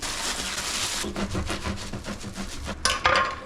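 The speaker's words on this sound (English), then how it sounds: "let's cut some bread" Bread sawed with a knife for a full English breakfast in a home kitchen, a close, rough rasping of repeated back-and-forth strokes, followed by a couple of sharper knocks as the knife hits the board.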